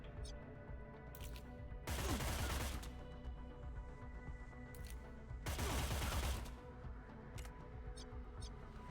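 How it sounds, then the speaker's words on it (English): Assault rifle fire in Cyber Knights: Flashpoint, two loud sustained bursts of rapid shots about a second long each, separated by quieter stretches with a few sharp ticks and a soft background hum. "I think it's a good use of the assault rifle."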